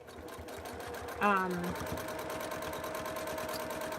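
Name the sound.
sewing machine stitching fabric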